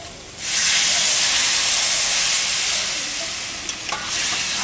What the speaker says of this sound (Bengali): আমার কষানি হয়ে গেছে জল দিয়ে দাও জল দাও